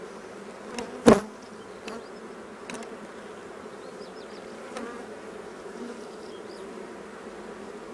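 Honeybees buzz around an open hive during a spring inspection, a steady close drone with individual bees passing near and one loud buzz flying right past.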